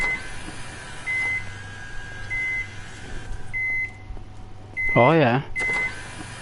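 Fire truck ladder boom controls in Firefighting Simulator give short electronic beeps at intervals over a steady engine hum, joined by a warbling siren-like tone near the end, with someone briefly speaking.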